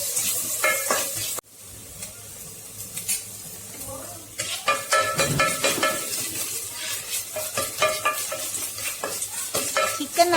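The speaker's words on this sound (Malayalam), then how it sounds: "അത് ചൂടായി വരുമ്പോൾ ചെറിയുള്ളി കട്ട് ചെയ്ത് വഴറ്റുക" Chopped shallots and ginger garlic paste are sautéed in a pan for Chettinad chicken, with repeated spatula stirs and scrapes over a light sizzle, close and fairly loud.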